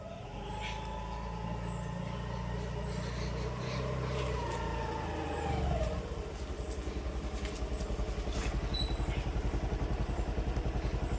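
A two-wheeler carrying a passenger on the back fires up and idles, then rides off as the engine settles into a steady, close-up putter over roughly eleven seconds.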